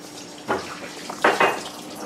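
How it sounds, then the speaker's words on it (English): Cold water runs from a kitchen tap with a steady hiss, broken by a few splashing bursts as the flow hits cooked pasta in the sink. "I'm just going to run cold water on it"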